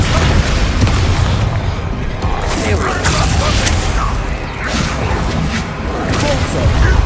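Descendo spell impacts in the Hogwarts Legacy video game, heavy slamming booms in a constant, loud combat mix with voices speaking over it.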